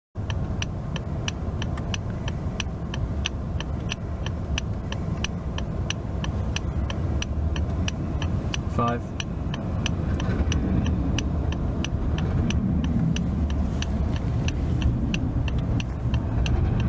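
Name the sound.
Mercedes-Benz S500e car driving on a test drive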